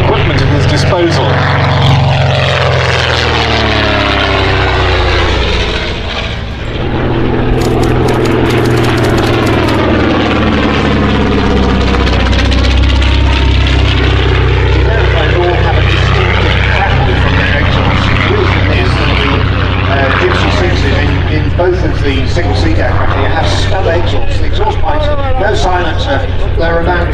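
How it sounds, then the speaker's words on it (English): A Hawkspeed 6 vintage aircraft with a 200 horsepower engine passes close at an air show, its propeller drone swelling and sweeping in pitch as it approaches and recedes, with crackling exhaust and a commentator talking over it. "you'll hear that crackle from the exhaust as the Hawkspeed 6 comes through, and the sound of that 200 horsepower."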